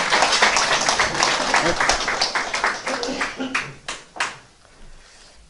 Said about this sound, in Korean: 이 두 분께 힘찬 박수,